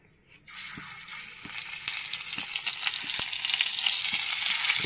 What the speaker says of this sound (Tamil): எண்ணெய் நல்லா சூடாயிட்டு நாம இப்போ இந்த மீனை வந்து அதில் போட்டு பொரிச்சு எடுத்துக்க போறோம்